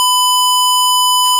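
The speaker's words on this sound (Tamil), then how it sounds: "சோ அதனால வந்து அலாரம் வருது ஒண்ணு." A simulated electronic visitor counter sounds its full-capacity alarm, one loud, steady, pure high beep held for over a second before cutting off.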